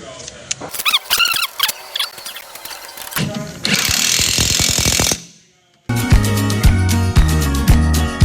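Hardware for a Rough Country 7.5-inch lift kit is tightened back down with a power tool, loud hammering impact-wrench bursts in several runs separated by short pauses and one brief silence.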